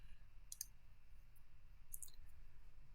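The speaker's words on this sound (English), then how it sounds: "press the K key on your keyboard or click here" Two small computer clicks, mouse or keyboard key presses, spaced about a second and a half apart, crisp and faint over a quiet low room hum.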